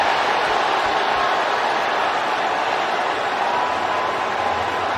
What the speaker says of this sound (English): That's what the crowd is reacting to.